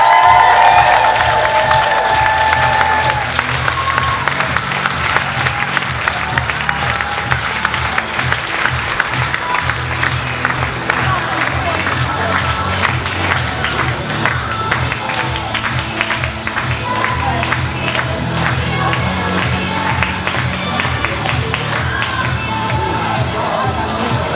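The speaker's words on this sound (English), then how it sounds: "Can you please give Roz a massive round of applause?" A large audience claps and cheers for a speaker at a public-speaking event, loud, dense applause with scattered shouts and whoops that carries on steadily throughout.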